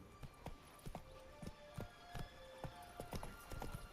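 Steady clip-clop of a horse's hooves in a fantasy video game, a quiet, even walking rhythm of about two to three steps per second over a soft hum and faint ambient tones.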